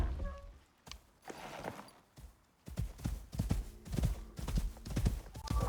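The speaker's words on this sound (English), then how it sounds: "let's see what his riding is like" Hoofbeats of a tamed buffalo being ridden in the survival game Icarus: a steady, rhythmic clip-clop of hooves that picks up a brisk running gait partway through, close and fairly loud with no talk.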